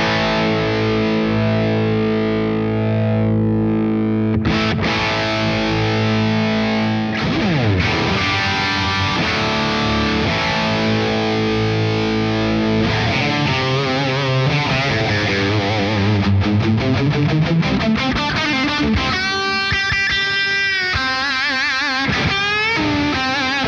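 Heavily distorted electric guitar chords and lead lines through an Origin Effects RD Compact Hotrod overdrive pedal, thick and sustained with loads of reverb and ambience, loud and continuous with no voices.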